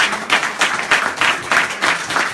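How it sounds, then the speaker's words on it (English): An audience at a panel discussion at a peace and justice center in San Jose applauds the panelists, giving a loud, dense burst of clapping that keeps up steadily without fading. "Please join me in a round of applause for our panelists."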